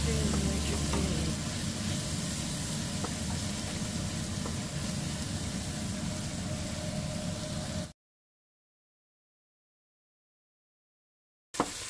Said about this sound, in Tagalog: Pagkatapos magisa ang bawang, sibuyas at saka yung pork meat